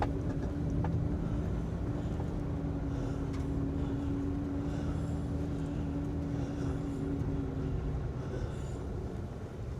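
A 1959 Mercedes 220SE fuel-injected sedan idles and is shifted through its gears while stationary, a steady low engine drone close by with faint clunks from the gearbox.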